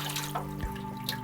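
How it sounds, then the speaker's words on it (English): Fresh water runs steadily over a photographic print being washed, a soft continuous trickle close by with a faint drip and no voices. "this is fresh water going on top of it here"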